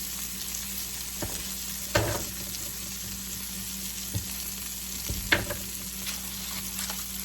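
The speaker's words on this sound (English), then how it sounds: "let me throw a couple more tomatoes in here" Tomatoes sizzle and fry steadily in a hot pan while eggplant cooks, with a few clacks and stirs of a utensil against the pan over the constant hiss.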